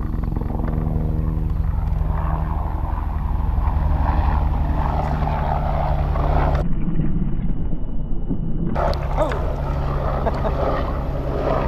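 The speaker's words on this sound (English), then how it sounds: "There's like a plane or a helicopter flying over" An aircraft, plane or helicopter, drones steadily overhead in an outdoor setting, a continuous low propeller-like hum with wind-like noise, loud throughout and briefly muffled partway through.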